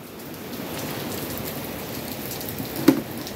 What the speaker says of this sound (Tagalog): Ayan lang, maulan.